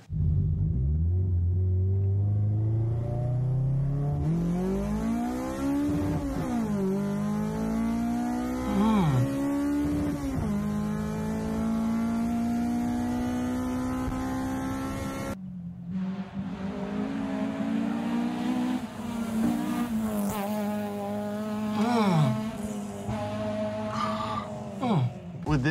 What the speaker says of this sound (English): you do hear, like, obviously the exhaust, but you also hear a lot of the intake noise